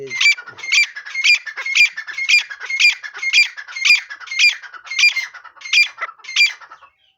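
A partridge repeats a sharp, squawking call in a steady rhythm, about a dozen bursts, clear and fairly close with no other sounds, in a village.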